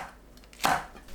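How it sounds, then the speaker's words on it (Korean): A knife slices Cheongyang chili peppers diagonally on a cutting board, giving a single crisp, close chop that stands alone against a quiet background. "청양고추도 어슷 썰어주세요."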